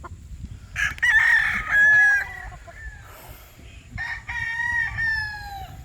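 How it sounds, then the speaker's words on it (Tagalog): A rooster crows close by in two long rising-and-falling calls, with softer clucking and a low rustling background between them and no talk. "Ayaw mo mag-steady itong manok"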